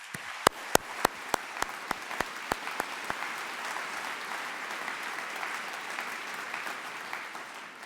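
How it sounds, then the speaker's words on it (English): Sustained audience applause at the European Congress of Radiology 2023 opening, with dense clapping throughout, a few sharp louder claps standing out in the first few seconds before the steady roar continues. "I would like to invite you to give a fulsome round of applause"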